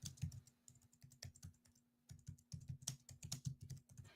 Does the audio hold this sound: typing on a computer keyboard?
yes